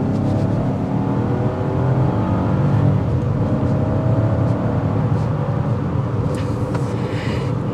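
A 2024 Chevrolet Trax accelerating during a test drive, its engine a steady, loud, continuous drone heard from inside the cabin for the full stretch, with no one talking.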